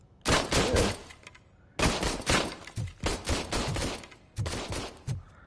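A weak-feeling gun in the video game Robocop Rogue City fires three long, loud rapid bursts of automatic fire separated by short pauses.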